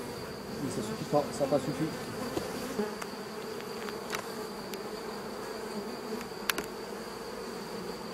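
Honey bees from a swarm that left hive 6 buzz softly and continuously around the hive, a faint droning hum with someone speaking briefly over it.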